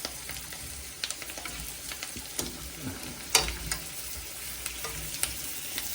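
Red potatoes frying in butter in a pan, with a steady sizzle and scattered scraping knocks and stirring clatter as they are turned, including one louder clack near the middle; no talking.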